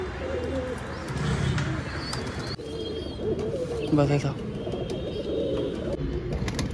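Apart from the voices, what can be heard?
pigeons and a pigeon chick in a loft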